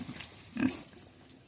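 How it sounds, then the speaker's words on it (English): Farm pig giving a single short low grunt up close, faint and soft, with quiet rustling around it. "she's a farm pig"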